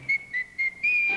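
Someone whistles a cheerful tune in short bright phrases, four clear notes or bursts with brief gaps, the last one held longer, with no voices alongside, from a 1957 television variety show.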